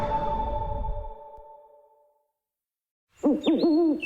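Owl hooting in a radio advert for Whiteman Park, a series of clear, close hoots that rise and fall in pitch. It comes after a music sting fades into a short silence.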